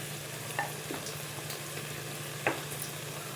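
Ginger-garlic paste frying in a pan for a ganga vaili leaf curry, a steady soft sizzle throughout with a low hum beneath and a couple of brief clinks or stirs, no talking.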